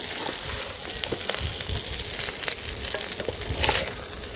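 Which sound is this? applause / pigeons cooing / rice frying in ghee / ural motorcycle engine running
rice frying in ghee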